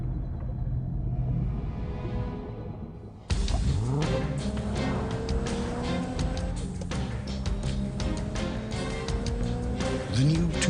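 A 2006 Lexus GS with 300 horsepower revs and accelerates in a TV commercial, engine rising and sweeping past after a quieter opening with a faint musical tone, then a second surge near the end.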